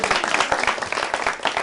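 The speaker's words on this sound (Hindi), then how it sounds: "इनके लिए जोरदार तालियां पहले।" An audience at a college fashion event claps loudly with a dense, uneven patter of hands, close and sustained throughout the short stretch.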